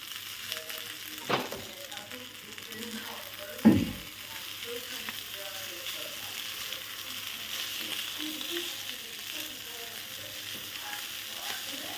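Egg fried rice sizzles and fries in a pan while being stirred, a steady close crackle with a couple of sharp knocks of the utensil against the pan.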